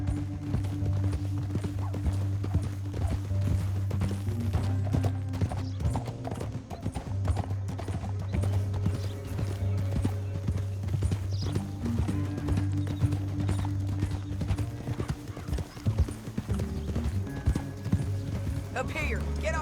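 Horse hooves clip-clop steadily in the Red Dead Redemption 2 video game, a continuous rhythmic patter under low music and ambient sound, with an occasional faint whinny.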